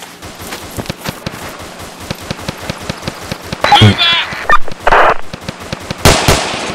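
Gunfire bursts in Arma 2, a military shooter, come as a rapid series of sharp cracks spread across the scene, with louder bursts and explosions late on and speech in the background.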